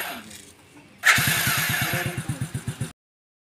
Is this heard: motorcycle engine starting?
yes